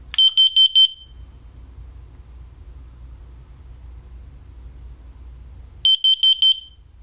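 Two bursts of rapid, piercing high beeps from a hallway-mounted carbon monoxide alarm under test, one at the start and one at the end, with a low steady hum in between.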